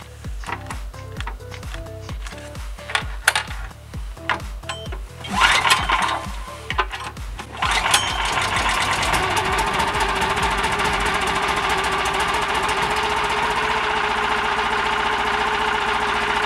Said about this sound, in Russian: По громкости работы новый 20-сильный лифановский мотор, такой же, как и ранние модели 192 серии.